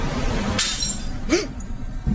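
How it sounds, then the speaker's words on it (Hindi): A glass bottle falls to the floor and shatters with a short, bright crash over a steady background hum in a dramatized horror story scene. "तभी उसके सिरहाने पड़ी शीशे की बोतल अचानक जमीन पर गिरकर टूट गई।"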